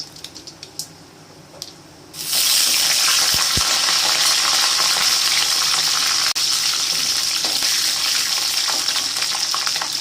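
Urad dal and chana dal hit hot oil with mustard seeds for a tempering, bursting into a loud, steady sizzle after a quieter start, with faint stirring clicks through the spitting hiss.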